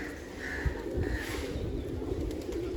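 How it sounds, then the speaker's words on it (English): Pigeons coo in a monastery courtyard in Kathmandu, Nepal, a low soft murmur held steady under a constant outdoor background hum, with no voices. "Hello, pigeon."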